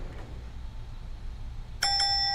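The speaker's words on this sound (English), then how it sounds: "Where's the bell? I need your bell." A bell struck once near the end: a bright, clear ding with a sustained ringing decay, loud and close after quiet room noise, with no talking.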